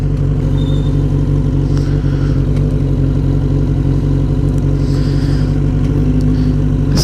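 Sport bike motorcycle engine running steadily up close, a continuous loud low drone with slight revving variations and no talk.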